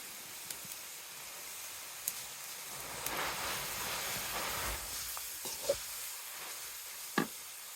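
Pea greens (matar shaak) tipped into a pan of cooked spice masala give off a soft, steady sizzle, with a few sharp crackles and spits near the end.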